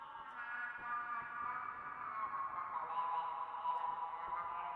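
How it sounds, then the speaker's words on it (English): Synthetic alien computer voice chatter built in VCV Rack and run through a Plateau reverb, a wide, spacey stereo wash of bubbling tonal babble at moderate level, no talk. "this Plateau reverb will now spread out the audio that was mono into a stereo, wide, spacey sound."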